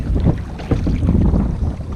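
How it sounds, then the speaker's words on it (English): Steady wind buffeting over choppy water on Snowbank Lake, a constant low rumble with soft splashes and gusts, no voices. "it's a bit windy and choppy"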